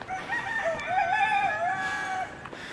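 A brown rooster crows once, loud and close, a single long drawn-out call at a backyard free-range poultry farm, standing alone with no talk.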